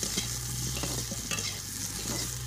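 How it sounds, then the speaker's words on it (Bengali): Potatoes fry in a pan on a clay stove until reddish-brown, giving a steady close sizzle broken by repeated scraping stirs. "এখন লাল লাল করে আলুটাও ভেজে নিচ্ছি।"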